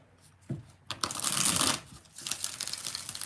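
A stack of tarot cards riffled and shuffled in quick bursts, close up, with crisp papery flutters and brief pauses between rounds.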